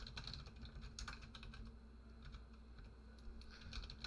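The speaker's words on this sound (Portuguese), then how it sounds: "Vou digitar aqui altura." Quiet, rapid clicking of a computer keyboard as a value is typed into a console program, steady and faint, with no talking.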